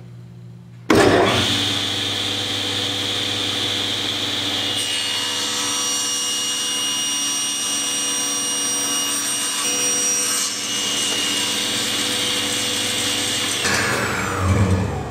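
Power saw cutting a wooden board held against a miter gauge: the motor spins up abruptly, a steady loud whine with grinding wood-cutting texture holds for over ten seconds, then winds down.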